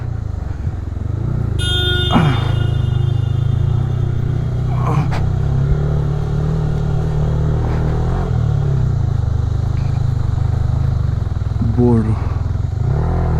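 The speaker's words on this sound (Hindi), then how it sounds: "मैं बाइक चला रहा हूँ" A Yamaha R15 V3 motorcycle engine drones steadily in low gear while climbing a steep mountain road, a continuous close hum with brief clatters and someone talking over it.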